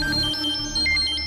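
A phone rings with a bright, repeating electronic ringtone, short melodic tones cycling close and loud against a faint background.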